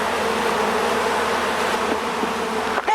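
Bees swarm close around a camera at a hive, a dense continuous buzzing drone with individual insects passing near the microphone.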